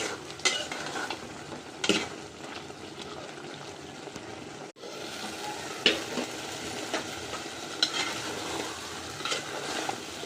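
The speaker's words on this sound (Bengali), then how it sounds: "এটা আরেকটু কষিয়ে নিব, তারপর কিন্তু ঝোল দিয়ে দিব।" Egg and bottle gourd curry stir-fried in a village-style kitchen, giving a continuous low sizzle under repeated scraping strokes of a spatula in the pan, with occasional sharper clinks.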